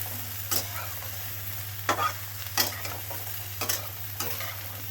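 Eggplant frying in a pan with ginger, cumin, mustard, chili and turmeric for beto shak chorchori, with about five sharp spatula stirring scrapes over a low, steady sizzle and hum. No one talks.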